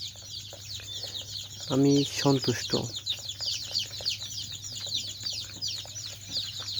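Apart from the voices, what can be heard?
300 young desi chicken chicks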